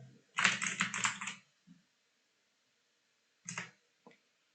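Someone types a username on a computer keyboard during an OPNsense firewall installation, in two bursts of crisp keystrokes: a quick rapid run, a pause, then a few final taps, with no voices.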